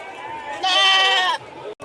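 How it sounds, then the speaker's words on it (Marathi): At a goat market in Lonand, a male goat gives a single loud, wavering bleat that lasts under a second, with the crowd murmuring in the background. "वेगवेगळ्या क्वालिटीचे बोकडं पाटी या ठिकाणी आपल्याला पाहायला मिळतात."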